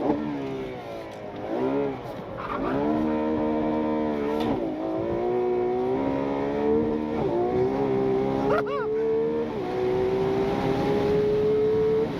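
A 2026 Ferrari 12Cilindri, rear-wheel drive, accelerating hard through the gears, its engine note climbing in several rising sweeps with brief drops at each shift, loud and close from the cabin.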